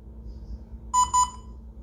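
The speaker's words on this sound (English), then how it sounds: "So that is where they say that you have to hear the double beep." Two quick high-pitched electronic beeps from a DJI Mavic Air drone pairing with a phone over Wi-Fi, in close succession, fairly loud against a low background hum.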